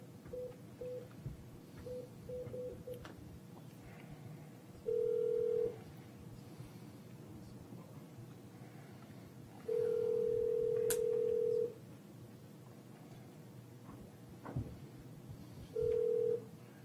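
Outgoing telephone call placed over a speakerphone system during a board of education meeting: a series of steady electronic tones, a few short dialing beeps followed by longer held tones, with faint room noise in between.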